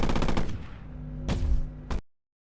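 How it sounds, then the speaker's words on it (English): The Astro rifle, a default automatic weapon in a video game, fires a rapid burst that trails into ringing echoes, then snaps off two more sharp shots before cutting to silence. "You have your Astro rifle. That is just your default rifle. It is just automatic fire."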